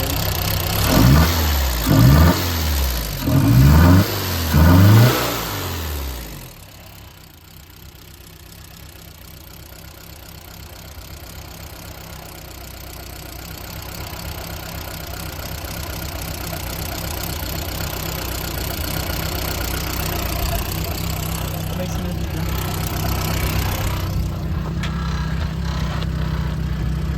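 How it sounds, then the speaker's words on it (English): A Volkswagen MK1 Citi Golf engine cranks and catches with a few sharp revving bursts, then settles into a steady, slightly rough idle that holds for the remaining twenty seconds, close and loud. "the car started"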